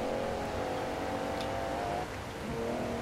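A teammate's car pulls up close in the Forza Horizon 4 racing game, heard as a steady, loud engine drone with a low rumble and a slight change in pitch near the end. No one talks.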